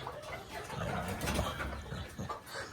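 Pigeons in a loft on a Mt. Banahaw farm, a mostly male early batch of birds, cooing and fluttering in a low continuous murmur close by with soft wing sounds, no talking.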